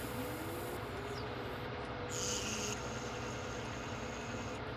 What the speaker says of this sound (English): as they crank the engine up, you hear the jet fuel starter. You'll hear it spool up.